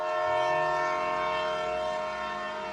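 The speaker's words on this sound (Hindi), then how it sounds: "ट्रेन ने हॉर्न दिया और धीरे धीरे रफ्तार पकड़ ली।" Train horn sounding as a train pulls away, one long sustained loud blast over a low rumbling engine that slowly fades, with no talk.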